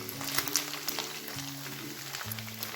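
Chicken pieces for chilli chicken fry in hot oil with a faint, steady sizzle and occasional pops, quiet and close, with a low hum running beneath.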